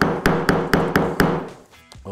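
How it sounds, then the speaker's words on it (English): A light hammer taps a piece into a pre-drilled hole in timber, five or six quick, evenly spaced knocks, close and crisp, followed by faint handling noise and no talk. "Give it a tap with a hammer."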